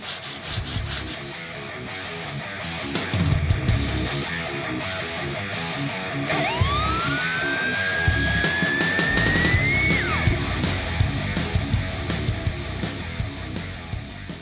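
A hand saw blade is sanded by hand during restoration, producing steady rhythmic rubbing strokes back and forth, close and continuous, with a faint rising squeal partway through.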